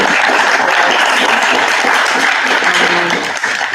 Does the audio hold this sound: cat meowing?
no